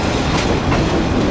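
A train travels along the rails in Vietnam, with a steady, loud rumble and clatter of wheels and carriages that fills the whole stretch with no talking.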